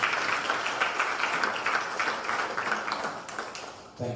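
Audience applause for the Minister of Planning and Economic Development at a statistics press conference in Freetown, Sierra Leone; steady dense clapping from a modest crowd that fades briefly near the end.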